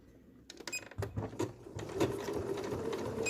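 A sewing machine stitches fabric for a tea mat. It starts with slow, uneven clicks as the handwheel turns, then settles into a fast, steady mechanical chatter, close up with no talking.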